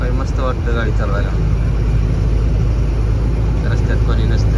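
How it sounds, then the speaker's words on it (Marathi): A car driving along a quiet road in the early morning, with a steady low engine and road rumble throughout and voices talking over it now and then. "सकाळी सकाळी मस्त वाटतं गाडी चालवायला."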